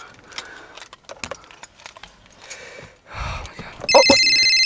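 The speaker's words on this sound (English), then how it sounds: "I'm gonna put the keys in the ignition real quick." Car keys jangle and rattle in bursts as they are put into the ignition, followed near the end by a loud electronic phone ringtone that starts abruptly.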